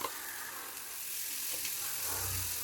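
Vegetables for kurma sautéing in a pan, a steady soft sizzle running throughout with a low rumble of stirring building toward the end, no voices.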